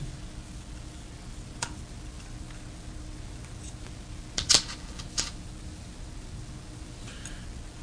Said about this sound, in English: To take the rail off, we unscrew the sear pin.